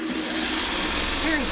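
A sewing machine running a quilt seam in one steady, continuous whir, heard close by and fairly loud for a brief moment.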